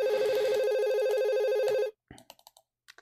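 A phone ringtone warbles loudly and continuously for about two seconds, then cuts off, leaving a few brief faint clicks.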